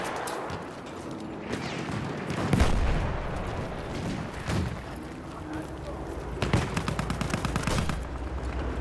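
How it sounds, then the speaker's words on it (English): Enemy machine gun fire in a World War I shooter game, heard among repeated gunshots and booming explosions in a dense, continuous battle din, with a voice talking over it. "Machine gun, one of theirs."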